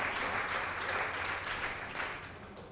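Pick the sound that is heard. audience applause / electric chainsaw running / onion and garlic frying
audience applause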